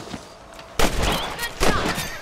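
Two sharp rifle shots ring out in Red Dead Redemption while hunting rabbits, each a sudden loud crack followed by a short echoing tail, spaced under a second apart.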